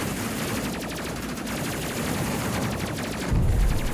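Rapid automatic gunfire from a space combat video game, a dense continuous rattle of shots with a louder burst near the end, no talking.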